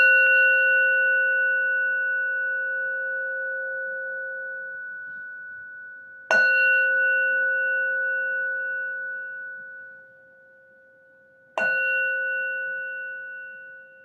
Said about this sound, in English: I'm going to go ahead and clear the energies with this sound bell